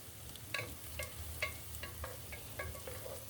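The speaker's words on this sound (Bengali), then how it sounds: "এবার গরম মশলা সহ পেঁয়াজটাকে একটু লালচে করে ভেজে নেব" Chopped onions with garam masala fry in a pan as a quiet, steady sizzle, broken by a regular series of soft spatula scrapes at about two or three per second.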